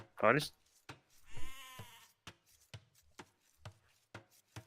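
Sheep bleat in the strategy game Age of Empires II: one close, wavering bleat among sharp clicks and taps, with people talking over the game.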